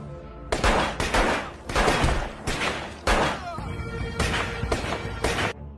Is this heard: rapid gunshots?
yes